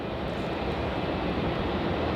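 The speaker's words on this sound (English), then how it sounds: "So now arriving on runway 34 is SQ237, arriving in from Singapore." A Singapore Airlines jet, flight SQ237 from Singapore, arrives on runway 34 at Melbourne Airport, heard as a steady broadband engine roar with no talk.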